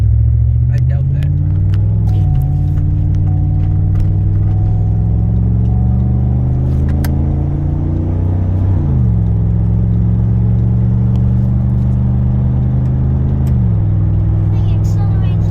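A 2011 Chevrolet Suburban with a 5.3L V8 and 6L80 automatic transmission accelerates steadily, its engine drone climbing in pitch, dropping at each upshift, then rising again through several gears, loud and close with continuous road rumble.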